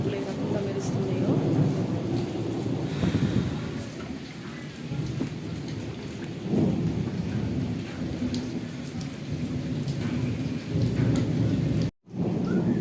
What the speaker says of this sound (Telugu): చూసారా సౌండ్లు ఏ రకంగా వస్తుంది, చూసారండి మన మెరుపులు ఏ రకంగా మెరుస్తున్నాయో.